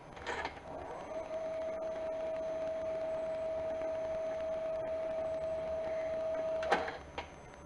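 A Sanyo VHR 2250 VCR fast-forwards a VHS tape, giving a steady whirring tone that runs for about five seconds and ends with a click. It is close and moderately loud over a hiss, with no talk.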